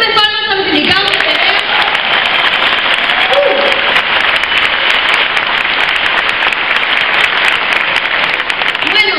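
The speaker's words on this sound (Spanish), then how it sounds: "¿Pueden dar un fuerte palmas a los invitados" Loud, dense applause fills a hall for the guests at a business talk in La Molina, continuous and close, with a voice and tonal sounds briefly at the start.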